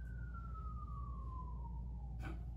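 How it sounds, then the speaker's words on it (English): Emergency vehicle siren outside, a faint distant wail sliding steadily downward in pitch, heard alone over low background hum. "The sirens are ironic."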